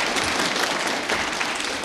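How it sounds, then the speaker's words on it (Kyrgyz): An audience applauds at a youth talk-show Valentine's Day celebration, a steady dense patter of many hands clapping throughout, fairly near and even in loudness, with no voices over it. "Анда ушул кызыбызга жакшы кол чаап коелу,"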